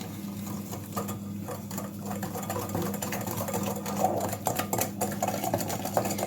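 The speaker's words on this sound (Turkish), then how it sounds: "Güzelce bunları bir çırpalım." Rapid, steady scraping and clinking of a whisk beating lemon revani batter with sugar by hand in a bowl, close and continuous.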